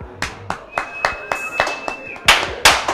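Scattered, uneven claps from a small part of a comedy show audience, about eight separate claps of varying loudness, with a faint whistle-like tone in the middle.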